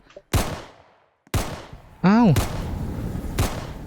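Gunfire in the Roblox game Ro-Bio: three loud, sharp bursts spaced about a second apart, each decaying quickly, with a brief rising electronic game tone between them.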